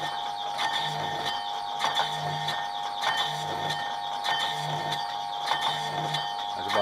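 A milling machine cuts laser-cut steel covered in mill scale at about half a millimeter depth, giving a steady, close whine with rhythmic clicking and ratcheting pulses from the cutter, with no talking.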